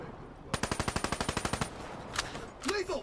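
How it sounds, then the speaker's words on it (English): Automatic weapon fire in Call of Duty: Black Ops 3, a rapid, evenly spaced burst of about fifteen shots lasting roughly a second, followed by a few faint game effects. "I'm just shooting walls"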